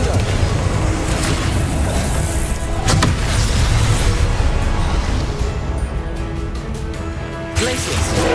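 A Confringo blasting spell detonates in the video game Hogwarts Legacy, heard as dense, loud booming combat noise that fills the whole stretch, with a sharper burst near the middle and another toward the end.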